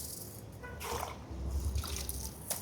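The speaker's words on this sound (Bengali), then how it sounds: "চাল ধুয়ে নিচ্ছে বাবুর্চি নিজেই।" A cook rinses a large batch of rice in water while making Sylheti akhni, with soft sloshing, dripping and rattling of grains in short bursts over a steady low background hum.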